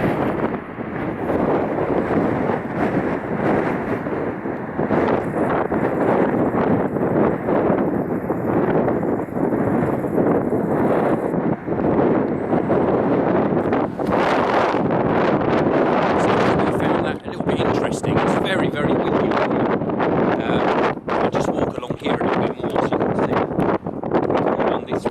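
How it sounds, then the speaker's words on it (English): Strong wind buffets the microphone in a constant loud roar, with a voice speaking faintly underneath. "How windy it is, blowing up"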